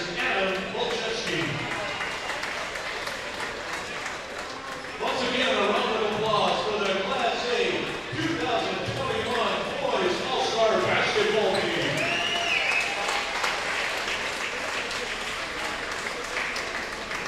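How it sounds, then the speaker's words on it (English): A crowd in a gym at a boys' all-star basketball game breaks into a round of applause, sustained clapping and cheering that swells midway, with voices talking over it. "Once again, a round of applause."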